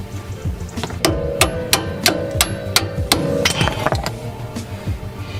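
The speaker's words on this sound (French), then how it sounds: "le marteau." A metal hammer strikes repeatedly while a coilover is fitted on a Honda Civic, about a dozen sharp ringing blows in a fairly even rhythm, close and loud with a metallic clink.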